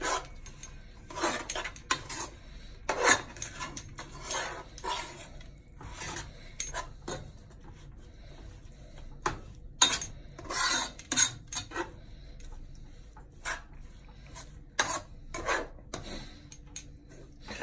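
A quinoa and vegetable bowl stirred in a pan, irregular metallic scrapes and clinks of a utensil against the pan coming in bursts over quiet gaps, close and moderately loud, with no talking.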